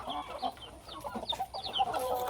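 A flock of chickens clucks and chatters busily while eating paddy grain scattered as feed. Many overlapping calls sound close by.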